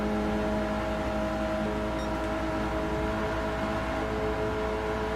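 Steady race car engine drone from Gran Turismo 7, a Gr.4 or Gr.3 car circling Watkins Glen or Catalunya, humming continuously and loud at an even pitch with no talk over it.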